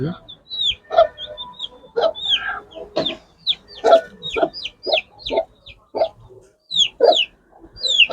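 Hen and chick clucking on a farm, with repeated short clucks and high cheeping calls scattered across the clip, close and fairly loud, with no talking.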